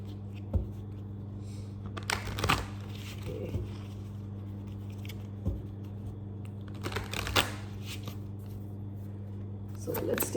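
Romance angel oracle cards are handled and shuffled in soft, scattered riffles and taps, close and quiet, with a person talking through much of it.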